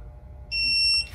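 A new digital torque wrench emits one clear, high electronic beep lasting about half a second while tightening bolts during an LS3 engine rebuild, close and distinct over quiet room tone.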